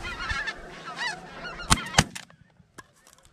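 Geese honking during a duck and goose hunt in snowy weather, repeated loud calls overhead followed by two sharp shotgun blasts and fading honks.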